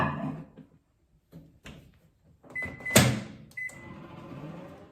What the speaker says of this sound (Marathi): परत झाकून एक मिनिटासाठी मायक्रोवेव्ह मध्ये लावून द्यायचं